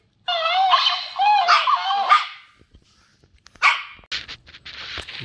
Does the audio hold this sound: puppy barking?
yes